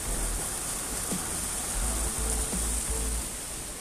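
A small river flows beside an abandoned Olympic swimming pool in overgrown jungle, a steady close hiss of running water without pause or voices.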